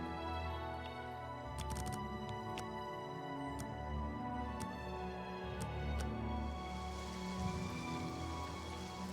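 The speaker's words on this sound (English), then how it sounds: "I kind of wanted to sleep until the rain stops." Soft, steady rainfall in The Elder Scrolls IV: Oblivion Remastered, a faint continuous patter with quiet sustained background tones and a few sharp droplet ticks.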